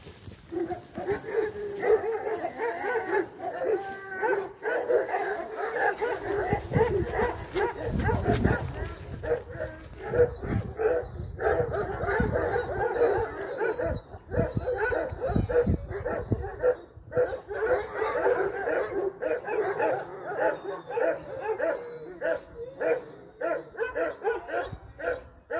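Several large Kangal shepherd dogs bark and yelp in a rough, overlapping chorus outdoors in a field, some close and loud, continuing over a long stretch with occasional voices in between.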